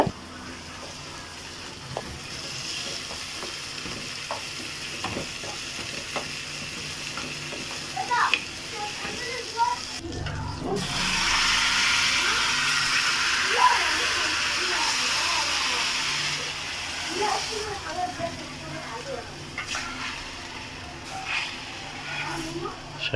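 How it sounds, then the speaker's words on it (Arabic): Garlic sizzling with coriander in a hot pan, a hissing crackle that swells loudly midway and then settles, heard beneath ongoing talk in a home kitchen. "طشة التومة بالكزبرة"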